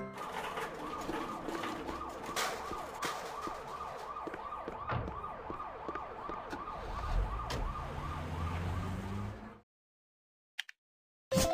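An ambulance siren wails steadily in a rapid repeating cycle over a rumbling motor, loud and continuous for nearly ten seconds before cutting off abruptly, with a couple of short faint sounds after.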